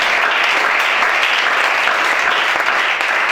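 A church congregation applauds at a worship service, a dense, loud, steady wash of clapping from many hands filling the room with no break.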